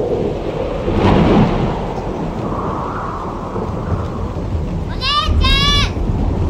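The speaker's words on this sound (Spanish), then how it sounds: "Está lloviendo mucho." Heavy rain pours steadily with a deep roll of thunder early on in the horror game The Kidnap by Chilla's Art, loud and close, and a voice briefly cries out near the end.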